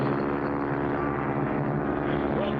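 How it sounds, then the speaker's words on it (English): A cartoon propeller plane flies right on top of another in a bush-pilot chase, giving a steady, droning engine hum that stays loud and constant throughout, with no voices. "There's another plane right on top of us."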